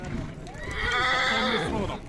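Horse whinnies near at the Tokmok horse market among ambling horses, a sustained neighing call over a busy outdoor crowd with voices talking and faint hoof clops.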